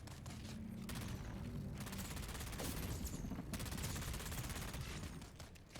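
Gunfire in the video game Dune: Awakening, a dense, continuous barrage of rapid shots and booms filling the whole stretch at steady loudness, with a brief lull near the middle.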